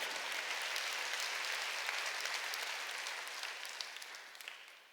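A church congregation applauding during a Sunday worship service, dense sustained clapping from a large crowd that holds steady and then tapers slightly toward the end.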